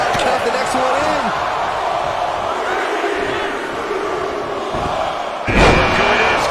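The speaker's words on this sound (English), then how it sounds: "Listen to this crowd count the next one in." Wrestling arena crowd at a Royal Rumble event chanting and roaring in rhythm along with ring strikes, a dense loud wall of voices with thuds and a sharp impact swelling the noise near the end.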